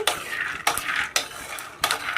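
Peanuts rattle and scrape in a dry pan over a medium flame, with four sharp stirring strokes spaced about half a second apart over a soft shuffling background.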